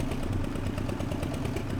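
A tractor engine idles in the Professional Farmer 2014 farming video game, a steady low mechanical rumble with faint clatter, held at an even level without a break.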